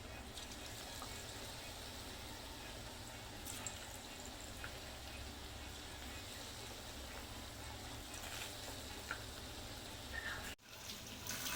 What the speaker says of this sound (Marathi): आता आपल्याला ह्याच्यामध्ये तेलामध्ये आता एक एक भजी सोडायची आहे